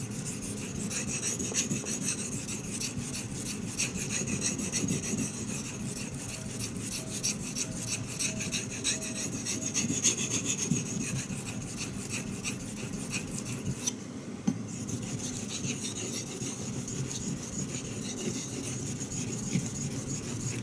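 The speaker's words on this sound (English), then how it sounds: "I sharpen these two knives, this knife and that loveless knife, at the same angle, at the same speed." Two knives are sharpened at the same angle and speed on a whetstone, giving a steady close rasping scrape that continues for about twenty seconds with no voices.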